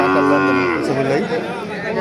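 A cow lets out a long, close moo over a faint murmur of crowd chatter at a village cattle market.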